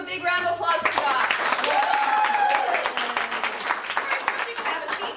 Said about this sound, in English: Everyone give a big round of applause for Josh